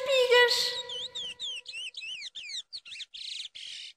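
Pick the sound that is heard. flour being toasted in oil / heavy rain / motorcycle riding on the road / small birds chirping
small birds chirping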